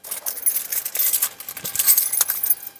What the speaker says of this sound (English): So let me pop the keys in here,